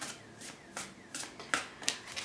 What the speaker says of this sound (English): Just from the way the cards are shuffling.